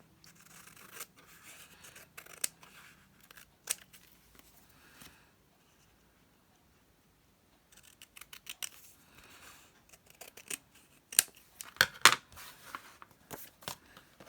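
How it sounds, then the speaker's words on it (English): Scissors snip through excess paper in crisp, close cuts, scattered at first, then a quiet pause, then quicker clusters of snips with light paper rustling. "And then I can trim off this excess."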